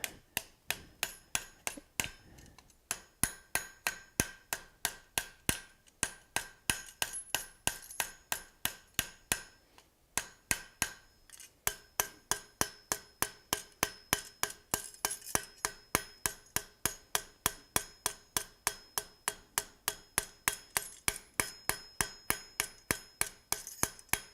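Steady, evenly spaced ringing hammer blows on mild steel over an anvil in a shop, sharp close strikes repeating throughout with a few short pauses between runs.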